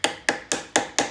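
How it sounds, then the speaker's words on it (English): Hammer striking a screwdriver to drive out broken bolts on an outboard motor: five sharp metallic taps in an even rhythm, close and clear, each ringing briefly before the next. "just use a hammer and a screwdriver"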